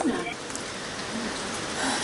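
Steady rain falls in the mountains along the Annapurna trek, a continuous broadband hiss of drops with faint voices murmuring underneath.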